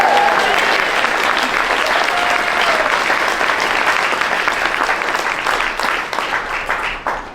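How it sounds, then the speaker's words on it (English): Audience applause at an award event fills a large room with dense, sustained clapping that stays strong before loosening into scattered claps and fading near the close. "Can I get another round of applause for Ethan?"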